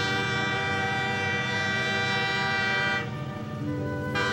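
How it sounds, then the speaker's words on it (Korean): A train horn sounds in a long, steady, sustained blast with rich tones, changing pitch briefly near the end, loud and close. "돌아서려는 순간 들려온 기적 소리."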